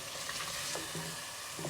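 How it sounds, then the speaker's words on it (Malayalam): Chicken being stirred with biryani masala in a pan, a continuous frying sizzle with a few soft scraping strokes, close and steady, no voices. "ഈ മസാല നമ്മൾ നന്നായിട്ട് അങ്ങോട്ട് ചിക്കനിൽ ഇളക്കുക."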